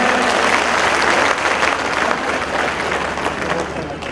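Loud, sustained clapping from a crowd at a Food Corporation of India workers' union conference, welcoming the conference president with a dense roar of hands that eases slightly toward the end, with some voices mixed in.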